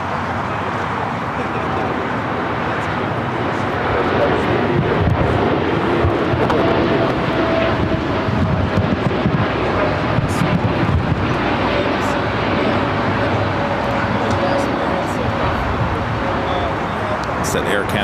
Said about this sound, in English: That Air Canada Dreamliner flight heading back to Toronto.